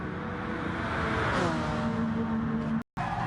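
Ferrari and Honda GT race cars run side by side in the GT Sport racing game, their engines droning steadily and climbing in pitch as they rev, with a brief cut-out near the end.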